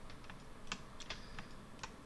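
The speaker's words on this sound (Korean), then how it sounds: "키보드에 컨트롤 키를 누르면요" Keys are pressed on a computer keyboard, including the Ctrl key, while working in a 3D sculpting program; a handful of faint, sharp clicks at irregular intervals over a quiet background.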